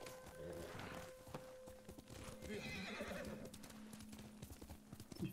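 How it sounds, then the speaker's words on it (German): A horse in the video game Ghost of Tsushima neighs while its hooves clip-clop at a walk, faint and soft throughout, with the rhythmic steps continuing beneath the whinny. "Ich könnte ja fast mit meinem Pferd dahin reiten."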